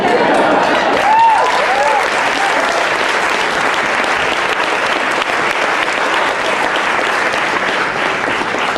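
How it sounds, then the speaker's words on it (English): A storytelling-event audience in Portland applauds steadily and loudly, a dense wash of clapping that holds for several seconds with a brief whoop near the start. "Big round of applause for Andrew Monko."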